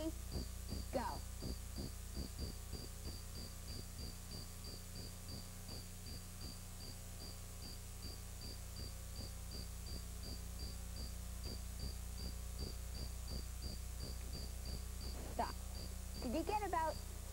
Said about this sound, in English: Here's another cricket chirping.